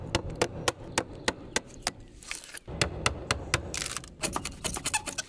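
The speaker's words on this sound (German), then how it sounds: "ich gebe hier mal einen Hammer durch" A hammer striking wood while building a saw barn, a quick series of sharp, fairly close knocks in an uneven rhythm, with scattered lighter taps and some rustling between the blows.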